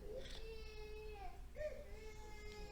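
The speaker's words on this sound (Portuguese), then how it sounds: "o barulho dos bebés a chorar é do melhor que há" Babies cry in a church congregation, a faint, distant wavering wail with drawn-out rising and falling tones, heard low beneath the hum of the room.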